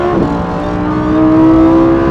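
A race car engine in Las Vegas runs at full throttle, a loud, close, steady roar that rises slightly in pitch.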